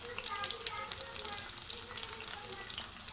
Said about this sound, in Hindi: बहुत ध्यान से अपने अपने हाथों को बचा के इनको फ्राई करना है।